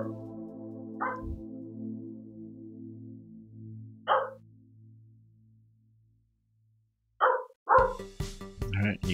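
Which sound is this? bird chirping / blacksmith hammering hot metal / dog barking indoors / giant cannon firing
dog barking indoors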